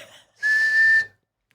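A single whistle blown in one steady, shrill blast lasting about half a second, loud and clear, with near silence before and after.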